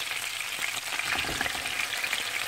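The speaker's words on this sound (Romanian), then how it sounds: "Acum voi pune bucățile de carne." Skinless chicken pieces frying in melted butter in a pan, a close, steady sizzle with crackling pops running throughout.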